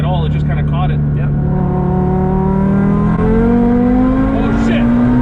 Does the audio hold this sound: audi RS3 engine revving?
yes